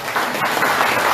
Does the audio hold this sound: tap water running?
no